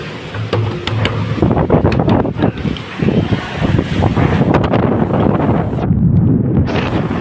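Wind and rain storm lashing a village, heard as loud gusty roaring and buffeting against the microphone with rustling and thumps, close and continuous.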